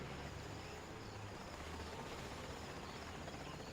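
A Chinook helicopter in a video game gives a steady, faint droning whir with a low rotor rumble, continuous and unchanging throughout.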